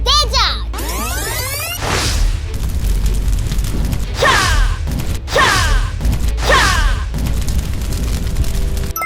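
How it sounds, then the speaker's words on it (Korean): Toy battle heat-attack effect: loud whooshing bursts with swept crackling tones, repeated in several pulses over a low rumble, with an excited voice shouting through it. "폭발적인 열기 공격!"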